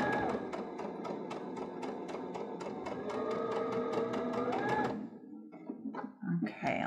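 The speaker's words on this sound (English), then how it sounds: "let's just take a couple back stitches here and finish off" A sewing machine back stitches along the armhole of an A-line dress, a rapid, steady run of needle strokes for about five seconds before it stops, followed by a few light handling noises.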